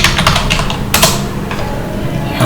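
Typing a URL on a computer keyboard, a quick burst of close key clicks then a few scattered taps, fairly loud with no talking.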